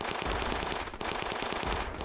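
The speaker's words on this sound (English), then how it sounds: "it has a machine gun on the top that will hit other units" Rapid machine gun fire from the Juggernaut unit in the mobile strategy game Battle Islands Commanders, a loud continuous rattle of dense bursts with a brief dip near the middle.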